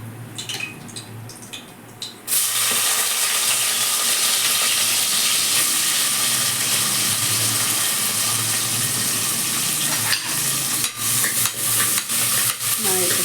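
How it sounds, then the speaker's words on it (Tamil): Ground paste of onion, tomato and green chili sizzles loudly in hot oil for a Tamil mutton chops gravy, a steady broadband hiss that bursts in after a quiet start and carries on with a few stirring crackles. "எண்ணெயில் போட்டு தாளிச்சுக்கலாம்."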